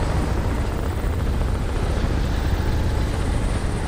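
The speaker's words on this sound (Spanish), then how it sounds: "Sal, pinche helicóptero." A hovering helicopter in the shooter game Crysis Remastered drones continuously and loudly, with a constant rotor rumble and no voices.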